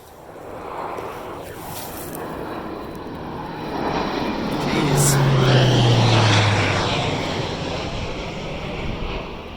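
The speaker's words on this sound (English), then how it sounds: "Some kind of cargo plane or something?" A large cargo plane drones overhead during outdoor insect hunting, a broad engine roar that swells toward the middle and fades slowly, with no talk.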